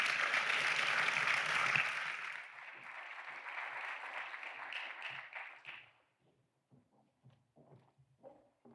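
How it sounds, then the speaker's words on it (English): Audience applause for the panelists at a climate and trade summit, a dense, steady wash of clapping that holds for about six seconds before fading into scattered claps and quiet room noise. "please give a round of applause to our great panelists"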